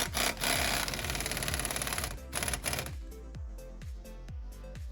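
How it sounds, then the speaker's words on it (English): A ratchet tightens the bottom nut of an ABC shock on a Mercedes R230 SL55. A dense, busy mechanical clatter gives way to evenly spaced, close ratcheting clicks. "go ahead and tighten the bottom nut that's going to hold the bottom portion of the shock"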